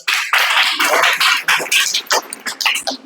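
Schoolchildren in a primary school classroom in Basti, Uttar Pradesh clap together in loud, ragged bursts, the group applause starting and stopping in uneven waves.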